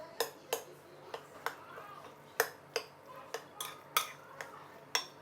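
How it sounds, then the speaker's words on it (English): Ingredients for steamed meat paste with dong choy mixed in a bowl, a steady series of sharp clinks and taps of a utensil against the bowl, close and fairly even in rhythm. "So we'll try to mix everything up."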